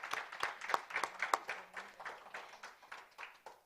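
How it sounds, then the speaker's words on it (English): Audience applause at a college press conference, a modest crowd clapping briskly and evenly for nearly four seconds, fairly near and fading slightly toward the end, with no talk over it. "Let's give Vivian another round of applause for that very compelling story."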